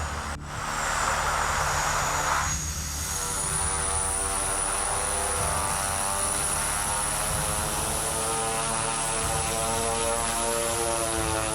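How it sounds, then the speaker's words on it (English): A Twin Otter propeller aircraft landing on deep snow on a frozen lake in northern Saskatchewan drones loudly and steadily, its engine tone holding close and constant throughout with no voices. "A Twin Otter aircraft is captured skillfully landing on deep snow"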